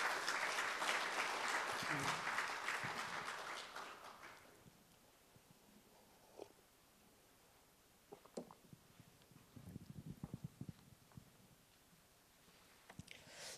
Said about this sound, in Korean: 맞으면 박수 한번 쳐주십시오.